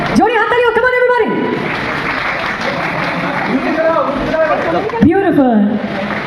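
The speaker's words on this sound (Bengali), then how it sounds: "জোরে হাততালি হোক" An audience claps steadily through a prize ceremony, a continuous patter of applause under someone speaking over a microphone, her voice standing out loudly above the clapping.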